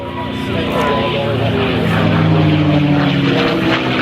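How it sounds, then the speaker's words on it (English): A P-51 Mustang propeller warbird makes a low-level flyby over an airshow airfield, its piston engine roaring loud and steady with a rising and falling drone throughout. "Nice low-level flyby from the Mustang."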